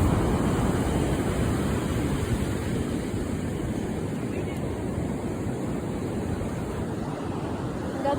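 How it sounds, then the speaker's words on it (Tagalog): High ocean waves on a beach in Palawan give a continuous loud wash of surf mixed with wind buffeting the microphone, steady across the whole stretch without a break. "Taas ng alon, oh."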